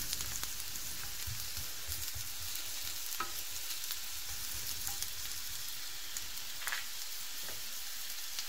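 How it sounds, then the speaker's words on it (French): Mushrooms frying in a pan after being turned, a soft continuous crackle and sizzle with scattered small pops, close and fairly quiet, no talk. "Ensuite, je vais inverser mes champignons. Et on laisse cuire"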